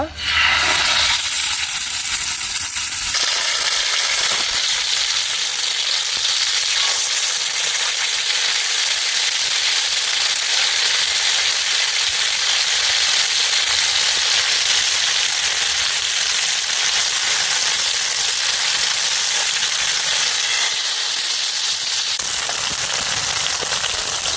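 Pieces of pomfret fish frying in hot coconut oil in a pan, a loud, continuous sizzle and crackling hiss that fills the whole stretch with little variation.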